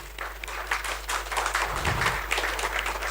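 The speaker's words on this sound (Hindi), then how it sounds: "सारे डायरी वालों के लिए जोरदार तालियां" Audience applause in a business motivation seminar hall: a steady wash of clapping from many hands lasting about three seconds, moderately loud over a low background hum, with no speech.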